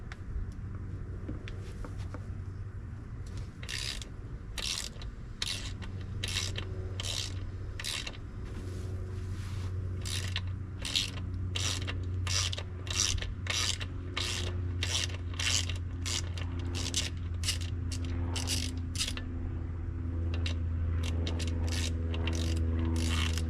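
A hand wrench works a 15 mm nut on the gear housing of a 2005 Mercury 50 hp two-stroke outboard, giving a long run of rapid, close ratcheting clicks in bursts over a steady low hum.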